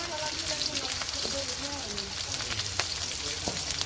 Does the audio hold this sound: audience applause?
no